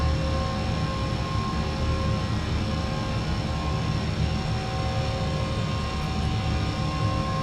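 Airbus A321 engines at climb thrust in a flight simulator game, heard as a continuous even roar with steady whining tones, constant in level and without voices.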